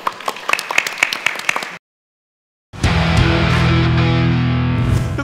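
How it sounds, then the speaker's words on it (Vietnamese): Studio audience applause at a Vietnamese television dating show, a burst of scattered claps that stops abruptly, then after a silent gap a loud, sustained swell of applause with music returns. "Một tràng vỗ tay"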